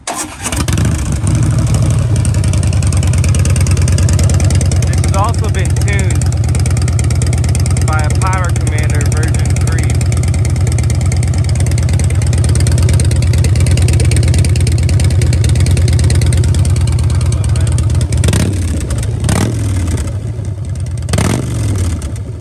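A Harley-Davidson Breakout motorcycle with the 103 engine, warmed up and tuned with a Power Commander 3, idles in a steady, loud, low lumpy rumble that runs throughout, with a few brief blips near the end.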